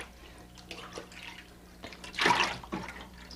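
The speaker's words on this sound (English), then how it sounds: "the fiber stays on the surface and the water drains through" Water trickles and splashes briefly as it drains through paper pulp, with a louder rush of draining liquid near the middle, against a quiet background.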